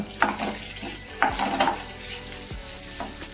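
Onion, ginger, green chillies and garlic sauté in hot oil with a bright sizzle, broken by a few spoon scrapes and clanks against the pan, close up.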